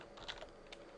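Rapid clicks of typing on a computer keyboard while entering a shell command on a NetApp Data ONTAP cluster-mode simulator, a quick close burst of keystrokes over a faint background hum.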